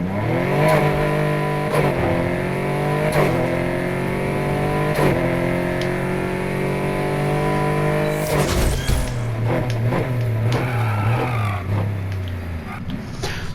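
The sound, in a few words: Porsche RSR car engine accelerating in video game NFS Heat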